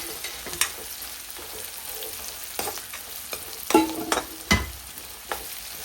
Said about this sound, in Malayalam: ചെറിയുള്ളി നന്നായി വാടി ഗോൾഡൻ കളർ ആവണേ നമുക്ക് വെയിറ്റ് ചെയ്യാട്ടാ.